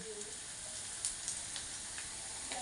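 Chopped garlic and ginger sizzle in hot oil in a pan, giving a steady bright hiss with a few faint crackles and pops.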